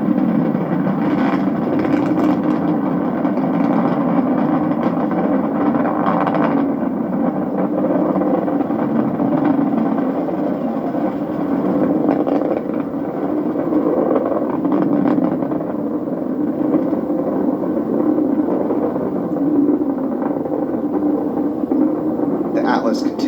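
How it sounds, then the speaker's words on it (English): An Atlas rocket's RD-180 engine and two solid rocket motors roar at launch, a continuous, fairly loud rumble heard from a distance under commentary. "the roar of that RD-180 engine and those two solid rocket motors"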